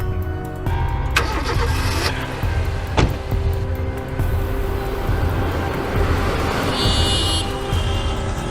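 A car engine cranks and catches, then settles into a steady idle, loud and close, with a brief mechanical whir near the end and no talking.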